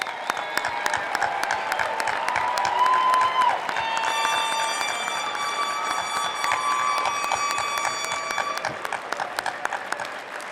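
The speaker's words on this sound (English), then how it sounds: "proud round of applause." Sustained applause and cheering fill a hall at the 2019 Oregon Institute of Technology commencement in Klamath Falls, with tonal whistles or ringing sounds rising over the clapping partway through.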